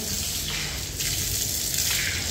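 Water gushing steadily from a tap in a student hostel in Kathmandu, a close, continuous splashing stream lasting a couple of seconds without speech.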